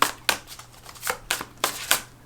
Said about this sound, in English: So let's draw 3 more cards.